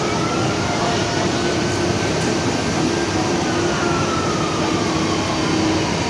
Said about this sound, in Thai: เป็นรถไฟ ความเร็วสูงนะครับบ้านเขา